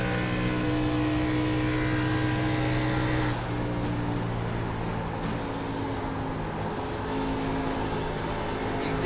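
Steady, loud race car engine drone from a 2009-style NASCAR stock car in the iRacing sim at Michigan, with a slight drop in pitch and volume partway through as the driver backs out of the throttle. No talk.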